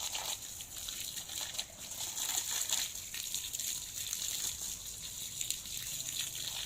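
Water gushes and splashes steadily from a hose or container onto soil as a young grape vine in a pot is watered, a continuous, fairly close pour with no talk.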